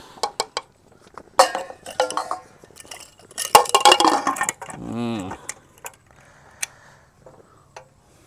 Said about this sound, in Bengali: এইবারে একটু নাড়া দিয়ে দেবো